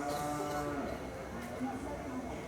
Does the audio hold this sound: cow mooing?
yes